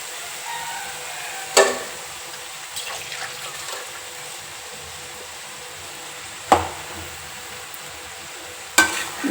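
Sprouted gram curry cooking in a frying pan over a low flame, stirred with a few sharp scrapes and knocks spaced several seconds apart over a faint, steady sizzle, with no one talking.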